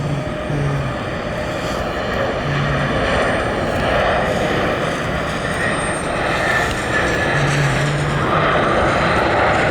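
A Southwest airliner inbound from Baltimore comes in to land, its jet engines a steady, loud, broadband roar that holds through the whole stretch, with no talk.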